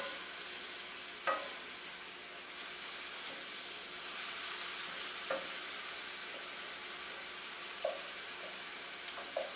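Asparagus cooking down in a pan for a pasta sauce gives a steady soft sizzle and steam hiss, broken by a few light stirring clinks from a utensil, with no talking.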